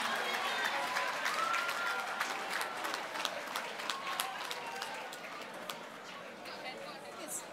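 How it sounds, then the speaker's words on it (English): An audience at a university youth leadership debate finale applauds prize winners, a steady wash of clapping that slowly tapers, with a voice speaking over it. "Please, a round of applause for them."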